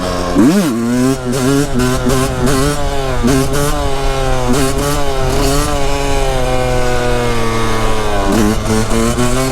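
A two-stroke supermoto motorcycle ridden on the street, its engine buzzing loud and close with a sharp rev at the start, then a steady high-pitched drone with small throttle changes and another rev near the end.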